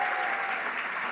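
Congregation applause fills a church during a worship service in Batam, a steady, dense clapping throughout with no voices over it.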